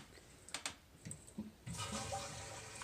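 Water rushes back into a diaper sprayer line as the supply is turned on, preceded by a few faint clicks and knocks, then a steady hiss of flow that continues to the end.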